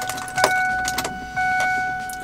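Ford truck key jangling, a few quick metallic clinks and rattles in short bursts, close and fairly loud against a faint steady tone.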